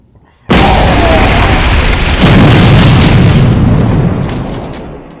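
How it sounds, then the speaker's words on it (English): A plasma missile fired and exploding in an animated sci-fi battle makes a sudden massive boom that swells into a long, loud, dense roaring blast, then slowly fades over several seconds. "Mr. Big Guy, fire a plasma missile at Bonestyx now!"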